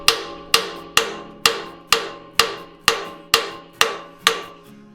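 A small hammer strikes a rusted-in exhaust pipe about eleven times in a steady rhythm, each blow a sharp metallic clank with a short ringing decay, close and alone.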